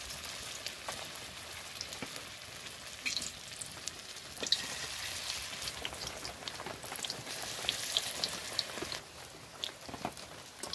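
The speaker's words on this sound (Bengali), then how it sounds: "আমি ছোট ছোট করে দিয়ে বড়া ভেজে নেব।" Small banana flower kofta fritters fry in oil over low heat, producing a busy, rain-like crackle of popping bubbles that rises and falls steadily, close by.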